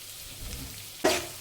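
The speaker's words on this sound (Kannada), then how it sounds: "ಇವಾಗ ಫ್ರೈ ಮಾಡ್ಕೊಳ್ಳಿ" Chicken curry with turmeric powder frying in a pan gives a faint low sizzle at first, then sharp, louder bursts of sizzling and stirring near the end.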